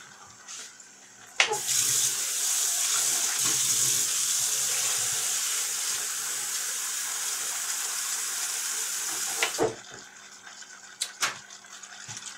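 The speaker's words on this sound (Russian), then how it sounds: "Сейчас нам нужно добавить воды." Water pours from a tap or jug into a cauldron of stewed potatoes, a sustained splashing gush of about eight seconds that starts and stops abruptly, with small kitchen clatters before and after.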